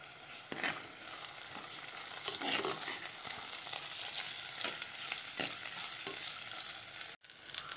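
Ginger, garlic and green chilies fry in a pan for a fish curry, a steady bright sizzle with occasional stirring scrapes, close and constant, with no talking.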